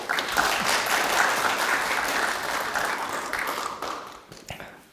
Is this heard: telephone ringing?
no